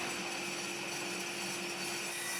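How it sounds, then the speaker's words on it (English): Dull Forstner bit boring holes through pallet wood, giving a steady, continuous grinding and rubbing drone with a constant high whine, close and loud, with no talk. "Use a 28mm Forstner bit for the buttons, 22mm for the joysticks."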